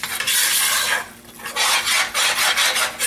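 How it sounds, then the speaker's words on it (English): A spoon scrapes and rubs through a thick Cajun roux in a pot, close and loud, in sweeping back-and-forth strokes with a short pause midway, heard alone. "even though I've been stirring a long time"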